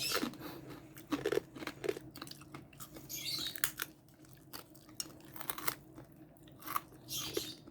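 Someone chews crunchy roast lechon belly close to the mic. Irregular crisp bites and crunches sound quietly over about eight seconds, with no talking.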